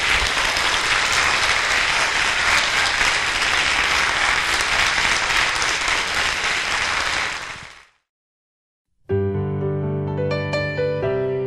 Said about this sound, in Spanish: Ahora sí le damos un aplauso.